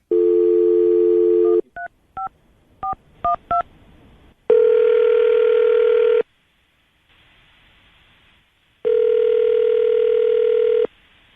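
Phone tones: a steady dial tone, then a quick series of short dialing beeps, followed by two long ringback tones separated by a pause.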